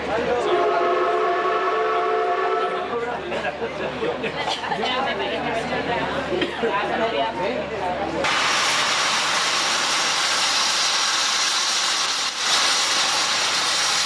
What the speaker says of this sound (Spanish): Con su locomotora a vapor y sus coches de madera restaurados, es la viva imagen de otra época.